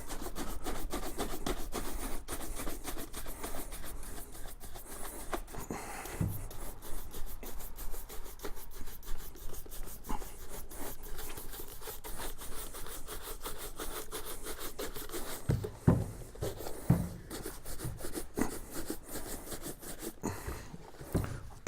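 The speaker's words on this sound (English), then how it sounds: "I'll come back with a final finish with the finer cloth, or more thread count possibly, or tighter weave cloth" A cloth buffs a new Allen Edmonds leather shoe in quick back-and-forth strokes, producing a steady rhythmic rubbing swish with brief pauses and a few light knocks.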